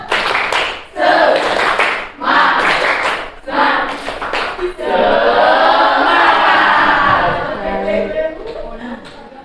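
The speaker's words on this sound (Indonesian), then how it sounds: "Tepuk semangat." A school class claps a rhythmic spirit clap: several short bursts of clapping in a pattern, then a longer sustained burst of clapping with light chatter, fairly close and loud.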